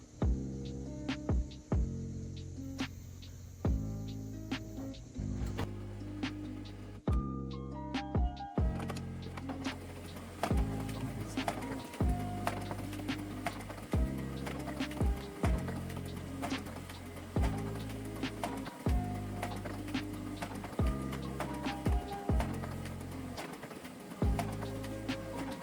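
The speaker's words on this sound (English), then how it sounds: "We'll have the printer push out as many pages as it can in 1 minute." An HP LaserJet Pro MFP M227 FDW mono laser printer runs a one-minute continuous print job. It gives a regular cycle of loud mechanical thumps and whirring hum as page after page feeds out, close and steady throughout.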